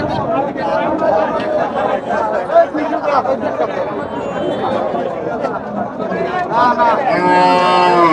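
Cattle at a busy rural cattle market in Sirajganj low amid a crowd, a louder, drawn-out moo rising near the end over constant bargaining voices and chatter.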